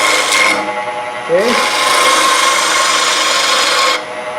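A spindle roughing gouge or long-point tool cuts spinning wood on a lathe, giving a steady broadband rasp with a short pause near the start, close and loud, with a brief spoken word.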